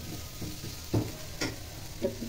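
Dried shrimp curry frying in a pan at home, a soft steady sizzle broken by a few louder clinks and scrapes as the spoon stirs it, close and alone without talk.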